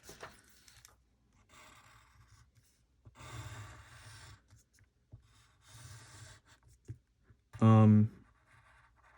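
A pen sketches a free body diagram of a cylinder rolling up a ramp on paper, giving close, scratchy strokes in several separate bursts, ending with a brief louder knock.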